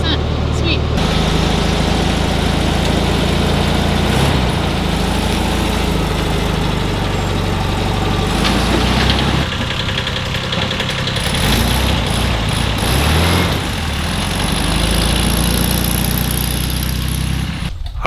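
A VW Bug engine that had been dead runs steadily after a jump start, a loud, continuous low rumble that fills the whole stretch, with voices talking over it at times.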